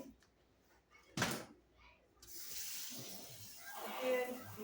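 Tap water runs over fruit being rinsed in a kitchen sink, a steady splashing hiss that starts after a sharp knock and continues to the end, with faint voice sounds underneath.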